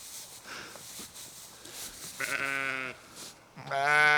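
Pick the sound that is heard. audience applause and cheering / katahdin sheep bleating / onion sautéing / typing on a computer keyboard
katahdin sheep bleating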